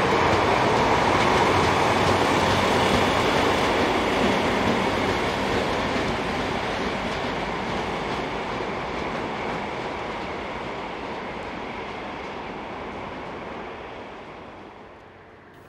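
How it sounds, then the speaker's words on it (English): Two DB Schenker diesel locomotives, 225051 and a class 117, haul dead electric 185310 northbound. A broad, steady roar of engines and rolling wheels passes nearby, loud at first and slowly fading away, with no voices. "Here, DB Schenker's 225051 and 117 haul dead electric number 185310 in a northbound"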